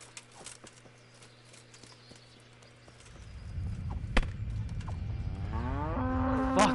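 In Kingdom Come: Deliverance, hooves clip-clop at a steady pace before a cow gives a loud, drawn-out moo near the end.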